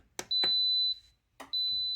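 An electric pressure cooker gives two long steady beeps as it is set to pressure cook and started, each preceded by sharp button clicks, loud and close with a pause between them.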